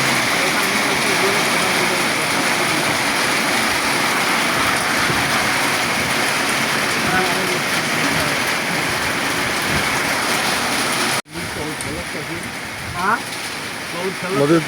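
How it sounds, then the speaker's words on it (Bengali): Steady rain with a light wind at a riverside landing in a river-island char area. A dense, constant hiss runs throughout, briefly drops out near the end, and faint voices sit underneath. "বৃষ্টির সাথে বাতাসও হালকা"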